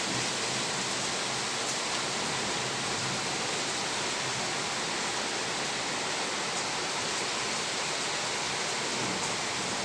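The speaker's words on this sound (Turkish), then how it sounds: "müthiş bir yağmur" Heavy rain pours down steadily in Ankara, a dense, even roar of water filling the whole stretch with no pauses and no voices.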